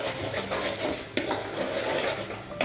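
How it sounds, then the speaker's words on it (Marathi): Masala frying in oil in a pan for a chickpea dish, stirred steadily so a loud, continuous sizzle carries scraping strokes, with a couple of sharp utensil clinks against the metal and no talk. "आता हा बघा मसाला आपला चांगला परतला आहे, खाली लागतही नाही आहे, त्याला मस्तपैकी तेल सुटलेलं आहे."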